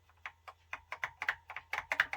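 Computer keyboard keys pressed in a rapid, irregular series of about a dozen sharp clicks while playing a game on a Tatung Einstein home computer, close and fairly quiet with no talking.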